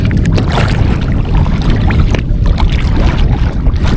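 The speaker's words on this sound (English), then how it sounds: "here comes the wind" Wind gusts across an open lake at Smith Lake in South Sheridan, Nebraska, buffeting the microphone with loud, continuous rumbling roar and rapid flutter throughout.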